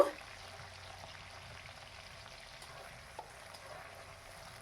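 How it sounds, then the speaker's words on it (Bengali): Capsicum, beans and carrot frying in oil in a home kitchen for fried rice, a steady soft sizzle with a faint tap near the start and another around three seconds. "ক্যাপসিকাম, বিনস আর গাজর যে কেটে রেখেছিলাম সেইগুলো এক এক করে ভেজে নেব"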